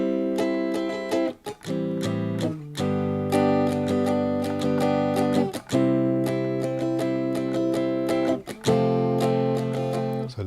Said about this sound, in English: Or if you're strumming, it might sound like this.